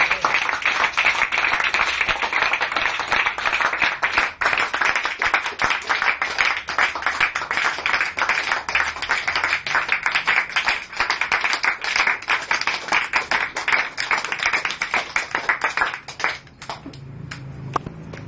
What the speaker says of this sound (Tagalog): Para sa lahat ng umiibig sa Diyos, isang malakas na palakpak